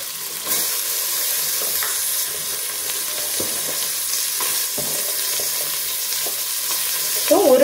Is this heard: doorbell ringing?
no